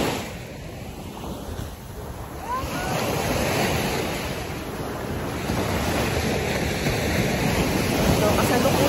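Sea waves wash in steadily at Kite Beach in Dubai, a broad continuous surf roar with wind buffeting the microphone throughout.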